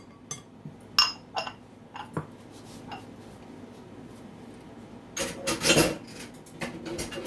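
Cocoa powder, baking powder and baking soda being sifted for chocolate cupcakes, soft rasping taps of a metal sieve with a few clinks, then a louder burst of shaking near the end, close and quiet, no talk.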